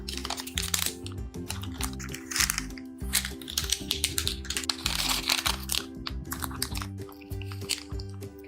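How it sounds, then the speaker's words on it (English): Butter paper peeled off a freshly baked eggless vanilla sponge cake, close crinkly tearing and rustling in quick irregular bursts over faint background music. "Now we'll take out all the butter paper that we have put on this."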